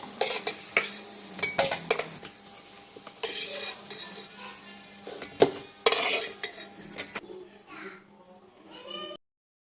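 Fried eggs and potatoes are lifted out of hot oil, with a close metal utensil scraping and clinking against the pan in irregular bursts over a steady sizzle; a few taps, then quieter frying near the end.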